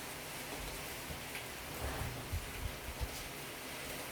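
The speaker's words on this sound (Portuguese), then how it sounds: "espera só um pouquinho que está chovendo." Rain falls outside in a steady broadband hiss, with scattered soft low thumps of drops striking surfaces and no voices.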